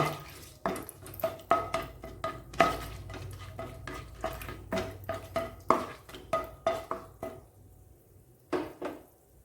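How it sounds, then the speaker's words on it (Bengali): Dried chillies, bay leaves, cloves, cinnamon and cardamom fry lightly in oil in a pan, with repeated sharp spoon scrapes and clacks over a faint sizzle, fading to quiet near the end. "2টো শুকনো ঝাল এবং লবঙ্গ, দালচিনি আর এলাচ দিয়ে হালকা ফ্রাই করে নেব"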